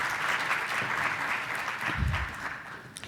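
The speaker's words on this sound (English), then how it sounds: "giving yourselves a round of applause for coming out" An audience at a community gathering on suicide prevention applauds in a steady, dense wash of clapping that holds for the full stretch without any voices over it.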